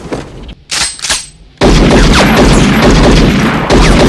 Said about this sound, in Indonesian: ketika dari kejauhan Mandy melepaskan tembakan